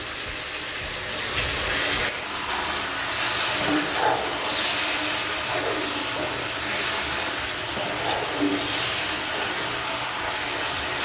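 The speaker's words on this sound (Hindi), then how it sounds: "पानी ऐड करेंगे ग्रेवी के लिए।" Water added to frying chicken curry in a pan sets off a loud, continuous sizzle and steaming hiss that swells and settles over several seconds, with no talking.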